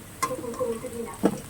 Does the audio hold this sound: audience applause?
no